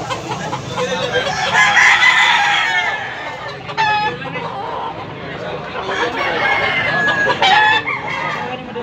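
Gamefowl roosters crow repeatedly at a farm in Tabunok, Cebu, with loud, overlapping crows rising over steady clucking and background chatter, the calls coming in bursts across the scene.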